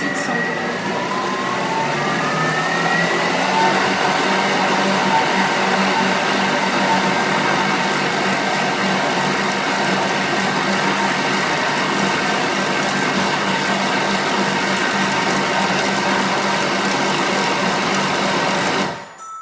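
A stand kitchen mixer runs steadily at speed 6 for about twenty seconds, beating gluten-free choux pastry dough in a bowl with a constant motor whir and rattle, then stops abruptly at the end.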